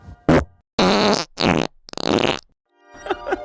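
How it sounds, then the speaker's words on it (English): Fart sound effects played back on a podcast: a string of four or five loud, buzzy blasts of varying length, one ending in a sputtering flutter, then a quieter low rumble with faint squeaky tones. "Bringing the farts back, and we only have 2 on file right now."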